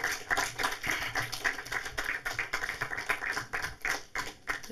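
Audience applause as filmmakers come on stage at a panel discussion in Frankfurt, a fairly sparse, uneven patter of hands that rises and dips across a few seconds.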